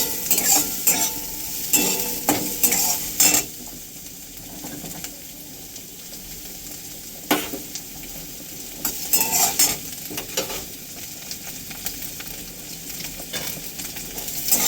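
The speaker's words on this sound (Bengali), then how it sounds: "এটা বেশি ভাজবো না, হালকা ভাজবো।" Light frying and stirring in a pan for fried rice, with a soft continuous sizzle broken by bursts of metal spatula scraping and clinking against the pan, close and without talk.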